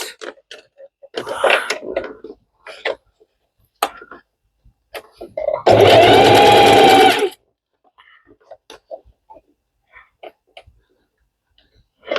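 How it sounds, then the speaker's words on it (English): A sewing machine stitches a bob wig onto its net in one loud, steady burst of fast mechanical whirring lasting a second or two, with quiet shuffling and breathing before and after. "Double sew this, double sew it, and the best way to do it is to sew it beneath, not on top of each other"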